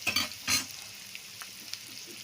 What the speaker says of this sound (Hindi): हमने लहसुन मिर्चा अदरक और प्याज का तड़का लगा दिया है।